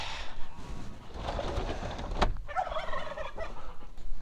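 Homestead turkeys gobbling in winter, a few rattling gobbles and clucks at moderate distance, with a sharp burst midway and softer calls trailing after, no talk.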